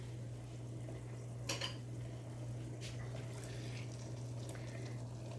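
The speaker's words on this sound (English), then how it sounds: "So we're just gonna get this all stirred in" A spoon scrapes and clinks in a pan of hamburger stroganoff, a few soft metallic taps over a low steady hum, quiet and close with no talk.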